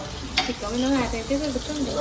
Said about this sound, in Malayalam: അതിൽ നമുക്ക് ചിക്കൻ ഫ്രൈ ചെയ്തെടുക്കാം